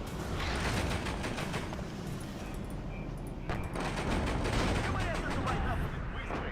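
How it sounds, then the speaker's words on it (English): Dense, continuous rumbling and crackling impacts of artillery fire land around a unit in the wargame WARNO, a loud, churning barrage with no clear pause between hits. "That is artillery on me."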